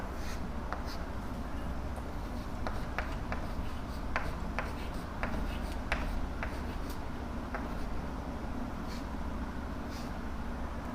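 A teacher writes by hand while working a Hindi maths lesson on least common multiples, producing soft scratchy strokes and light taps over a steady background hiss, fairly close and without talk.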